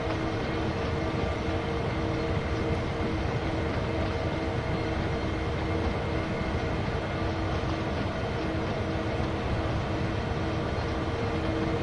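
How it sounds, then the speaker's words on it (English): A freight train rolling slowly on the Sherman Hill line in Train Sim World 2, a steady low rumble with a constant droning hum, continuous and close, with no talking. "Now we only have to let this train roll for a few meters."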